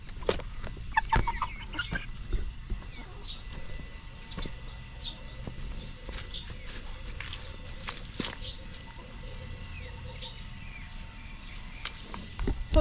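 A brooding hen clucks softly over her last remaining egg in a backyard, giving low, scattered calls against a busy, constant outdoor background of birds and rustling.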